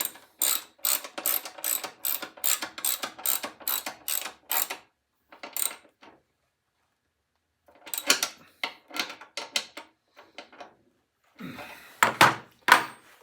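Ratchet tightening a bolt on a Snapper 33-inch mower drive train, sharp rapid clicking in bursts with pauses between strokes, close and crisp, a final cluster of heavier clicks and clunks at the end.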